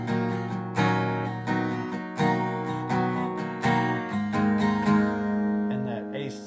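An acoustic guitar plays melody notes woven into a rhythmic strumming pattern, steady bright strums with single notes ringing between them, close and clear, no talking.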